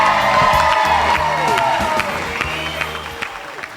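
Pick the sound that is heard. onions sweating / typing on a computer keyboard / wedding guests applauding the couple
wedding guests applauding the couple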